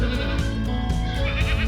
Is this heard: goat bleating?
yes